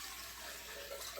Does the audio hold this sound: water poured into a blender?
yes